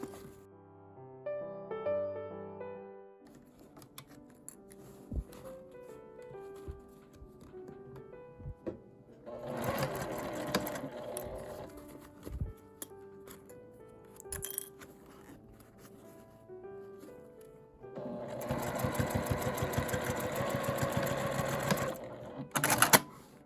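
A sewing machine stitches a seam across a zipper pouch. Bursts of rapid mechanical whirring and chatter come in two louder runs, with quieter clicks and handling noises between them.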